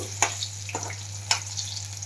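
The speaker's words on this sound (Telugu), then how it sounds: "ఇది మంచిగా ఇట్లా ఫ్రై అవ్వాలి కాయలు" Brinjals frying in a pan for vankaya mudda pachadi, a quiet steady sizzle with a couple of sharp scraping stirs over a low hum.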